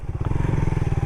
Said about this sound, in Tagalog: mabilis itong motor na to